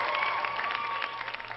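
Audience applause and cheering at a live R&B music showcase, a steady dense clapping wash with crowd noise, loud and continuous throughout.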